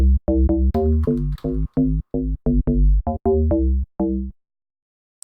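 FM deep house bass synth in FL Studio with global phase: a rhythmic run of punchy, harmonically rich bass notes, each short and cleanly separated, ending in a brief silence.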